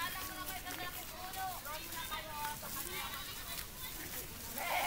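A goat bleats several times with wavering cries, fairly close, over a rumbling outdoor background while people talk nearby.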